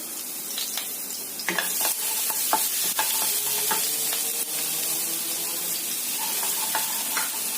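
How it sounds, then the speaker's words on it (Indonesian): Minced garlic sautéing in hot oil gives a loud, steady, close sizzle, with spatula strokes scraping and tapping the pan at irregular intervals and no talking. "kita masukkan bawang putih cincang. Kita tumis sampai tercium bau enak."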